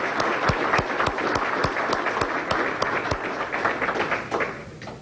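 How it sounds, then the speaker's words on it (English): Audience applause honoring first responders and government workers at a memorial event for the 2000 Owensboro tornado, steady crowd clapping with distinct sharp claps throughout, fairly close and sustained for the full stretch. "Everybody give them a round of applause, please."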